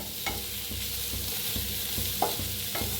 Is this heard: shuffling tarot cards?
no